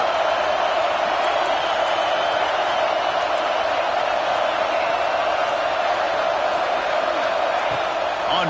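A packed stadium crowd at an Ohio State vs Nebraska college football game roars in a loud, steady, unbroken wash of cheering and noise that holds throughout without letup.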